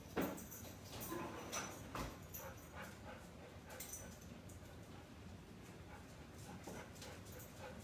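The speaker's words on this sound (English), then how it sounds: "I hear my dogs barking" Dogs barking in a backyard in the distance, a few faint whimpers and yips over a steady background hiss, with brief clatters near the start.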